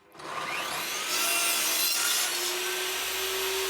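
Hand saw cutting through the end of a hardwood piece beside a mitre, one continuous steady rasping stroke sequence, close and fairly loud, with no talking.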